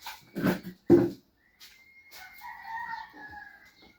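A young rooster kept beside a mother hen gives a few short, close clucking bursts, then a drawn-out, wavering crow that carries to the end.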